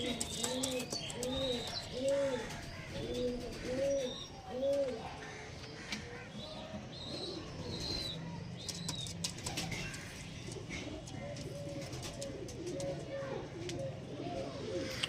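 Madras pigeons cooing in repeated soft, rounded calls, with a few chirps and wing flaps over a steady background murmur.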